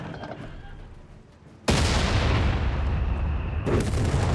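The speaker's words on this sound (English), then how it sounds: "so he's already got his own light artillery." Two loud, sudden blasts of light artillery from a Stummel halftrack in the Company of Heroes 3 battle game. Each boom breaks over quieter background rumble and then rings out in a long, dense roar.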